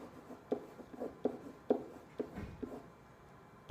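Pencil writing by hand on paper during a math numeration lesson, a series of quick scratchy strokes with short taps in an irregular rhythm, close and fairly quiet with no talking.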